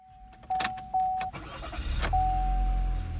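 A Chevy Cruze engine cranks and starts, with a short whine and clunks up front, then settles into a steady low idle that fills the rest of the moment.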